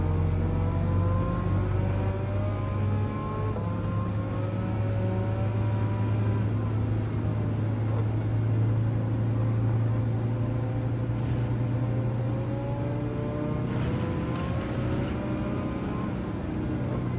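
A tuned Volkswagen Beetle in Gran Turismo 7 drones steadily at a low, even pitch, its engine note rising and falling gently in revs, loud and close throughout with no voices.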